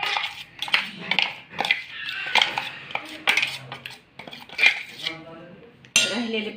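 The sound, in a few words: dal-rice batter transferred into a metal pot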